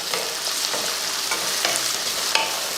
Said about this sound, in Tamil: காய் வெங்காயம் பட்டாணி எல்லாம் நல்லா வதங்கிடுச்சு